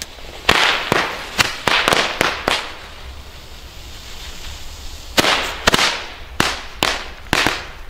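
WECO Atomic Pack firecrackers go off in a rapid series of sharp, loud bangs: a quick burst of about six, a pause, then five more, each with a short crackling tail and no voices.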